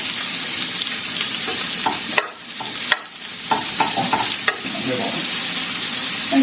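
Meat fries in a pan with a loud, continuous sizzle, broken by a couple of brief dips and clattering stirs from a utensil partway through.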